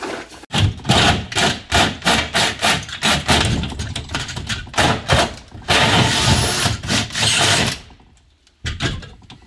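Repeated loud bursts of a drill grinding and boring holes at a koi pond facility, in short rhythmic pulses, with a brief pause near the end.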